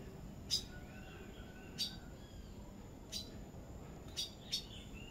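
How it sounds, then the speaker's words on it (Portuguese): Small birds chirp near a flowering cashew tree with yellow fruit. About five short, bright chirps come at irregular intervals, faint and a little distant, over a quiet outdoor background. "Os passarinhos já estão chegando ali"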